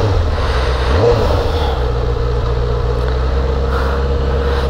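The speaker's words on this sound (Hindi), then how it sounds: "बाइक स्टार्ट करते हैं" A motorbike engine starts up and runs with a steady low rumble, with a brief rev surge early on, loud and close throughout.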